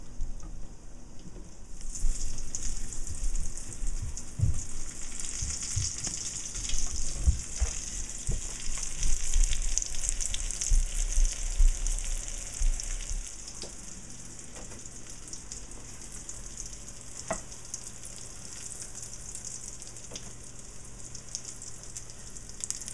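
Eggplant slices fry in oil in a pan, a soft, even sizzle with scattered small pops and utensil taps in the first half, then a quieter steady hiss.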